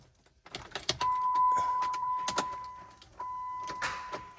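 A car with its lights on gives short starter clicks under a key turn, the dead battery leaving the engine uncranked; a steady faint electrical tone and some jingling of keys sit alongside, near and fairly quiet.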